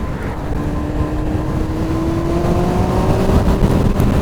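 Kawasaki ZX-9R motorcycle engine running on expired vegetable oil, a steady, loud continuous drone with a slowly rising tone, no talking.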